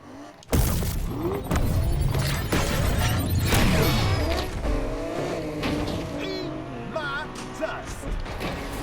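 Race cars in Need for Speed Unbound roar loud and close after a sudden start, engines revving and shifting with tire squeals and skids, a crash-like burst early on, the engine whine sweeping up and down.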